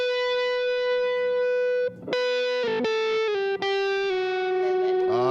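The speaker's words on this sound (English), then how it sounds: "wouldn't it be fun to have a fuzzy ass distortion?" An electric guitar played through a fuzzy distortion effect, with sustained, buzzing, harmonically rich notes and a few brief breaks as chords change, loud and close.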